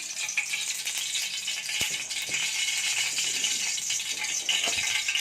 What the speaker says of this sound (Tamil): எண்ணெய் நல்லா காஞ்சதும் அதுக்கு தேவையான அளவு கடுகு சேர்த்துக்கிட்டேன்.